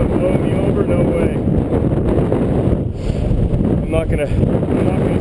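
Heavy wind blasting the microphone on the summit of Mount Adams in a continuous low roar, with brief dips and a faint voice barely audible under the gusts.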